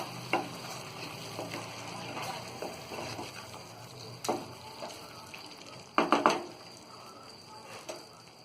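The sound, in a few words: stirring palak paneer (spinach and cottage cheese gravy) in pan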